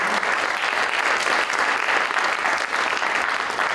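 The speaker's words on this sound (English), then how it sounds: "Let's give a round of applause." An audience applauds after a post-election briefing panel, the clapping steady and full throughout, with no voices rising above it.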